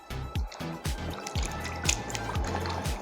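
Tomatoes are rinsed in a bowl of clean water for a tomato pickle, with close, quiet drips, trickles and small splashes recurring irregularly.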